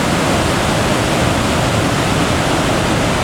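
The White Cascade waterfall roars loud and steady, a dense unbroken rush of falling water heard up close along a ridge trail, with no voices.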